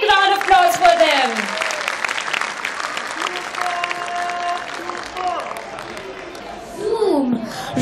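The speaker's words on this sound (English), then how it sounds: "Come on, audience, give a big round of applause for them." Audience applause fills a school annual function hall, a dense steady clapping crowd with scattered cheers and children's voices, while amplified music and a voice carry on over it throughout.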